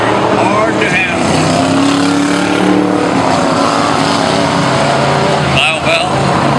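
Race cars roar around the Hanford track during a main event, a loud, continuous engine drone with passing surges. An announcer talks over the racing noise.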